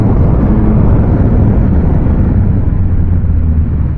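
Engine of a 2022 Yamaha Tracer 9 motorcycle drones steadily and loudly through a test ride, a continuous low rumble with no clear rise in pitch, heard alone without talk.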